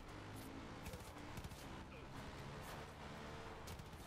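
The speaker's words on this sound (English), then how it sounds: "Oh, we're getting shot at!" Rapid gunfire in the video game Far Cry 5, steady crackling volleys running continuously for the whole stretch at a fairly faint, distant level, with background game noise.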